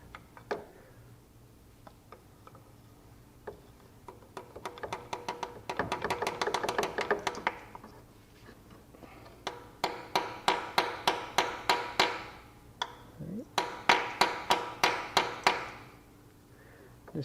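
A dowel being tapped into place during AC compressor, condenser and expansion valve work on a 2011 Hyundai Tucson, with bursts of rapid sharp close taps in quick rhythmic runs separated by short pauses and no speech.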